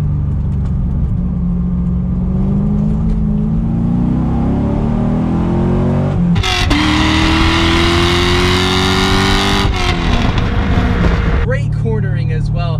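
A Corvette C6 Z06 sports car drives low to the road with a steady mid-pitched engine drone that rises and falls through gear changes, with a sharper burst of revving partway through, while a person talks over it.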